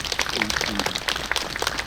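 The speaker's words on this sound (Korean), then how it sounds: "박수 한번 쳐주시고" An outdoor crowd claps at a memorial ceremony for the 28th anniversary of Reverend Moon Ik-hwan's death, a dense patter of applause running under a speaker's amplified voice.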